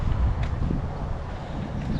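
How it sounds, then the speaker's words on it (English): Steady wind blows outdoors at a hot lakeside RV campground, a broad low rumble buffeting the microphone throughout with no talk. "It's windy, but I've been told it is always windy out here."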